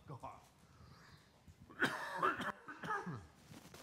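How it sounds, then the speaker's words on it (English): A pastor coughs several times during a church service, a burst of loud, rough coughs that trail into throat clearing over faint background murmur. "The pastor can't stop coughing."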